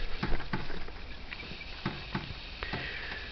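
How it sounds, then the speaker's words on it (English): Rain or roof runoff drips striking a window air conditioner unit, sparse irregular metallic taps and pats over a faint background hiss, fairly close. "you're hearing rain hitting my air conditioner."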